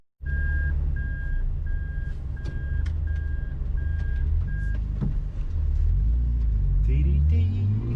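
A truck arrives at a shop, rumbling close by while a steady series of reversing beeps repeats at an even rhythm, followed by the engine revving and rising at the end.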